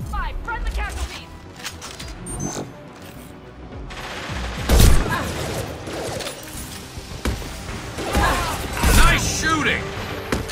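Bursts of gunfire, sharp single shots and short rapid volleys with loud peaks, scattered irregularly through a tense combat exchange, with some clattering mechanical noise between them.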